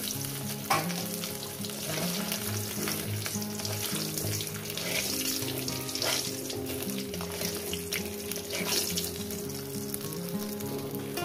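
Pieces of katla fish fry in hot oil, giving a steady, close sizzle with crackling bursts and occasional stirring clatter throughout, with no talking.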